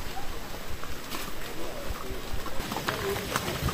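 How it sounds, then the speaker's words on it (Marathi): Horses walk slowly down a sloping trail at Matheran hill station after rain, hooves clip-clopping in an irregular plodding rhythm under outdoor ambience, with voices talking nearby. "खालचा उतार आहे ना म्हणून घोडे हळूहळू चालत आहेत."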